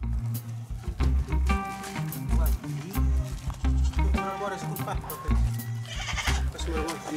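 Several goats bleat repeatedly at close range, loud and overlapping, with voices talking underneath.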